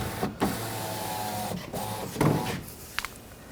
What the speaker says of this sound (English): With the key in the on position, we're going to lower the window down.